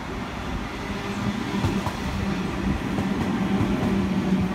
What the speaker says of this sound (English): Waratah approaching platform number 1 here at Milsons Point.